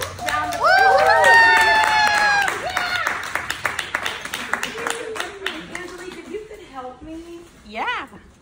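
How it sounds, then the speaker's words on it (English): A crowd at a Christmas party claps and cheers for team leaders, a loud burst that tails off under lively chatter, whoops and a voice over a PA. "please, give these leaders a very big round of applause"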